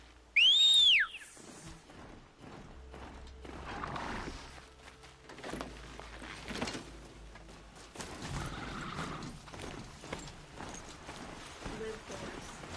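A horse moves along a cart track in the video game Horizon Zero Dawn, its footfalls soft and steady under game ambience. A whistle sounds at the start and a voice talks over it.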